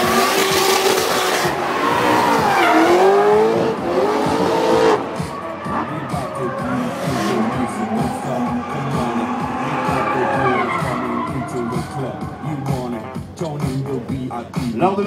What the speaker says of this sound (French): ce drift, il faut savoir tenir, entretenir sa glisse, bien évidemment